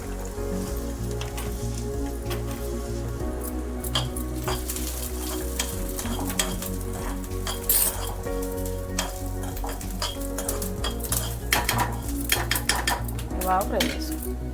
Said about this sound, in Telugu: ఇప్పుడు నువ్వులు వేద్దాం